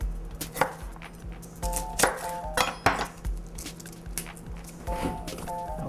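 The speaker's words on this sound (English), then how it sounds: "I'll cut a tiny bit off the bottom and then cut them in half" A knife chops Brussels sprouts in half on a cutting board: sharp, close cuts in an uneven rhythm, with light knocks and clatter between strokes and a faint steady hum behind.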